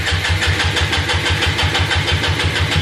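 A Honda Grom motorcycle with a doubled-horsepower kit runs up close after a cold start, its single-cylinder engine thumping in a fast, steady rhythm with a loud, even exhaust pulse.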